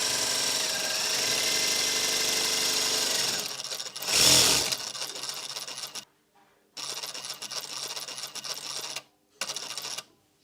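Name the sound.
sewing machine stitching a pleated face mask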